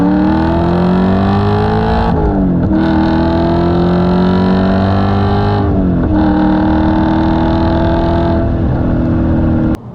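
Audi RS4 B7 4.2 V8 Quattro on standard exhaust, loud deep engine note from inside the car, pulling through gears with two clear shift dips and steady rising drones between them.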